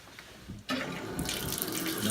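Bathroom faucet with a faulty Moen valve cartridge running water, which bursts on suddenly and then flows as a steady, close hiss filling the rest of the moment.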